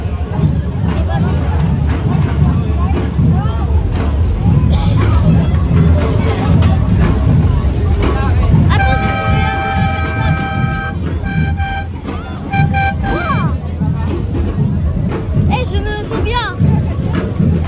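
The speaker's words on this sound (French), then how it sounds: "Vous m'entendez pas avec le klaxon de la voiture." A car horn blares in sustained harmonic honks amid a noisy carnival street crowd in Saint-Nicolas-de-la-Grave, with babble and chatter around and a voice talking nearby throughout.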